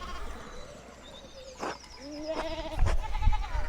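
Sheep in the video game Pentiment bleat several times in a row, wavering calls over a soft outdoor ambience, with a low murmur of voices underneath.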